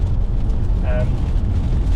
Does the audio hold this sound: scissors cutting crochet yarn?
no